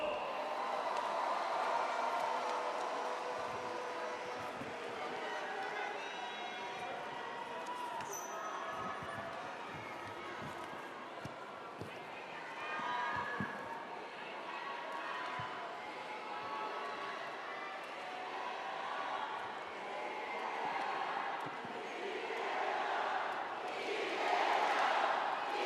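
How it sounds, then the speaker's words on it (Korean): Large crowd at a Democratic Party of Korea convention applauding and cheering as Lee Jae-myung is elected party leader, a dense, sustained roar of clapping and shouts swelling toward the end, with some voices audible. "여러분, 다시 한번 큰 박수 보내주십시오."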